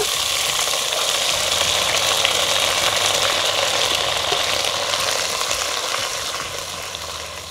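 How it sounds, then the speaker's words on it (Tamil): Ground onion sizzles loudly in sesame oil for a village-style quail curry, a dense continuous frying hiss with faint stirring, no voices. "அரைச்சி வச்ச வெங்காயம் சார்ந்தால் போட்டுக்கலாம்"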